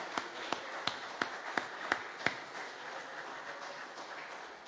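Congregation at a church service clapping, seven sharp, evenly spaced claps in a steady rhythm over a low murmur, then the clapping thins into a softer wash toward the end.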